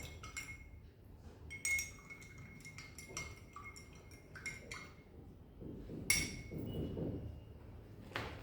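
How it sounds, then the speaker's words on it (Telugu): A metal spoon stirs salt into water in two glasses, giving bright clinks and taps against the glass in irregular bursts, close and moderately loud, with some low handling noise. "2 స్పూన్స్ సాల్ట్ వేసుకొని 2 గ్లాసులో స్టిర్ చేసుకొని"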